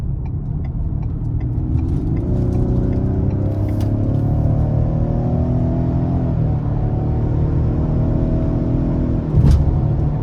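Inside a 2023 Ford Explorer ST-Line with the 2.3-litre turbo engine, the motor climbs steadily as the SUV accelerates onto an interstate, revs rising through smooth gear changes of the 10-speed automatic over a constant road roar.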